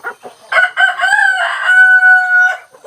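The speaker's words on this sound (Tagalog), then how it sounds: "ang dami-dami nilang alagang mga manok, oh." A rooster crows loudly and close by among many farm chickens in a mountain forest setting, a long rising and falling call with some clucking around it.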